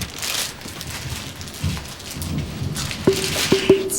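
Steady rain patters through a thunderstorm, with a low rumble of thunder rolling underneath and a few sharp tonal clicks near the end.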